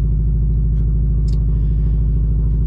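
A Subaru WRX engine idles after spark plug work, a loud, steady, close rumble with a smooth, even pulse and no stumbling. Faint clicks sound above it.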